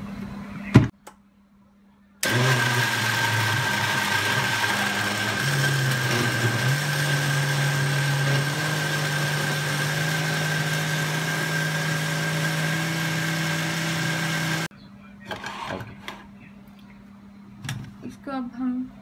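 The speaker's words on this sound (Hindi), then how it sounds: "इसको हम ग्राइंडर में डाल के इसको करते हैं ग्राइंड।" Electric kitchen grinder blending drink ingredients for a weight-loss drink, running as a loud continuous whir for about twelve seconds, with brief quiet handling sounds before and after.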